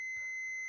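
A digital multimeter in continuity mode emits a single steady, high-pitched electronic beep lasting under a second, clear and close, with no speech.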